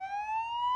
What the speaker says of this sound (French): Me dites pas que c'est une ambulance, vous êtes pas sérieux?